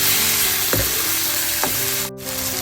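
Tomato and chilli sauté in a hot pan for an eggplant and chickpea curry. A loud, steady sizzle runs throughout, broken by two brief utensil scrapes and a short dip near the end.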